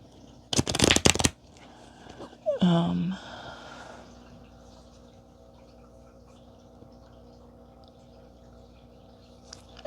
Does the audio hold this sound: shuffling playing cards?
yes